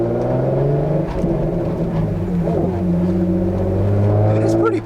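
Hyundai Genesis 3.8 R-Spec accelerating hard, a loud, steady engine drone with rising harmonics heard from inside the cabin, with people talking over it.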